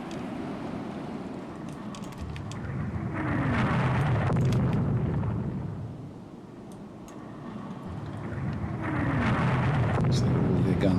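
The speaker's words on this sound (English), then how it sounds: "So all their guns firing back at us." Naval guns booming in the warship game Rule the Waves 3 come as two broad, rumbling swells of deep blasts over a constant low background roar, each rising and fading slowly.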